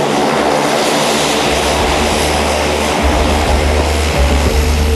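A military transport airplane carrying 28 commando marines, its propeller engines droning loud and steady in flight from inside the cabin, with no voices.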